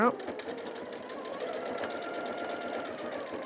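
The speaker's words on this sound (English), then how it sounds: "sewing along the hem lines" Close by, a sewing machine runs along the hem lines of a Christmas tree skirt with a fast, even needle rattle that holds steady, while someone talks over it.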